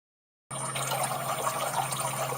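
Water from a reverse osmosis unit's storage tank pours into glasses, starting abruptly after a moment of silence and then running as a steady, even stream.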